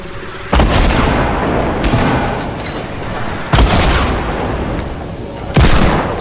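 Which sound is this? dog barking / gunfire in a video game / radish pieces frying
gunfire in a video game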